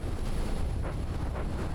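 Battleship guns firing in the naval combat game From the Depths, a continuous rumble of heavy booms and pops layered together at steady loudness, with a few sharper bursts standing out near the end.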